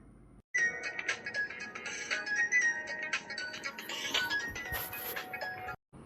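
A phone ringtone plays steadily as a repeating electronic melody, fairly loud and close, continuing for several seconds with brief gaps at the start and end.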